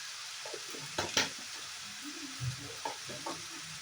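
Tomato fries with turmeric powder in a pan, a soft, fairly quiet sizzle broken by several spoon-and-pan stirring clatters.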